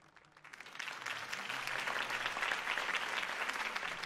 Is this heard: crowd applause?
yes